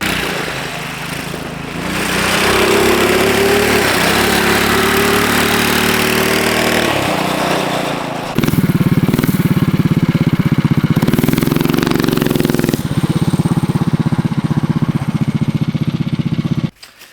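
A budget mini bike engine fitted with an aftermarket muffler runs steadily at close range, its loud, throaty drone rising in pitch midway and holding before cutting off abruptly at the end.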